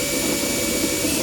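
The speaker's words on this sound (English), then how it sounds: "it's nice to know I'm drilling into aluminum" Steady power drill whine boring through aluminum on a Tracker Panfish 17 boat, a continuous close-up grinding drone with no pauses and no talking.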